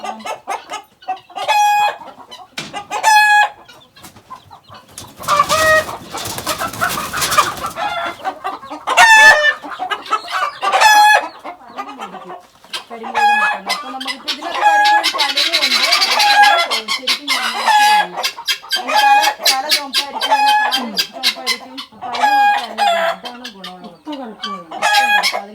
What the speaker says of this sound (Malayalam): നാടൻ കോഴിയുടെ കുഞ്ഞാണോ?